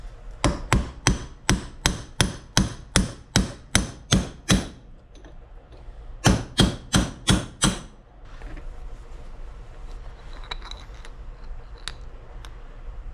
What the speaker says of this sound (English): So just got to drive it out with a punch